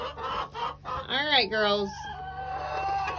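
Hens squabbling in a fight, with rising and falling squawks and agitated clucks up close, while someone speaks briefly over them.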